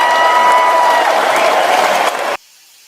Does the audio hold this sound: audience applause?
yes